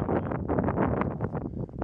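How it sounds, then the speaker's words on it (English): Wind gusting across open rolling grasslands near chalk formations, buffeting a nearby microphone in loud, uneven rumbling bursts throughout. "Sometimes it's very difficult to tell a story when the wind is blowing."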